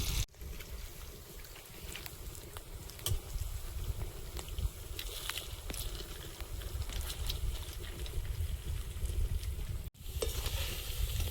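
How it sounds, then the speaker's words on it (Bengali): Lote fish chops frying in oil in a pan, a steady close sizzle and crackle running throughout with occasional stirring clinks and no talk. "এগুলো লাল লাল করে ভেজে নিয়েছি এখন তুলে নেব বাকি সবগুলো এইভাবে ভেজে নেব"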